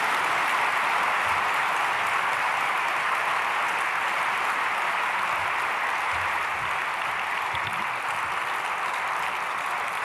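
A church congregation applauds to welcome the pastor, a sustained, even patter of many hands that sounds fairly distant and roomy and keeps a constant level throughout.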